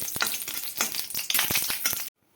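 Dry red chilli sizzling in hot oil, a loud, close crackle with quick spitting pops and a stirring rattle, cutting off suddenly.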